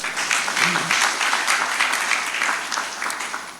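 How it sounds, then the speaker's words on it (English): Loud, sustained applause from a crowd at an institute's anniversary launch, a dense wash of clapping that continues throughout and begins to fade at the end. "I think we can clap for him."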